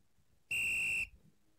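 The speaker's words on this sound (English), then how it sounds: "Man, pause that. Hit the whistle." A sharp whistle blown once, a single loud shrill tone held for about half a second in an otherwise quiet room.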